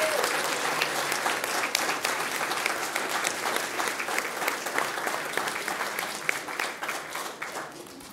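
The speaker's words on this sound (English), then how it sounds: "So let's give everyone one final great big round of applause." Audience applause at a Peoria Unified school district governing board meeting, a steady sustained round of clapping from a large room that holds for several seconds and gradually thins toward the end.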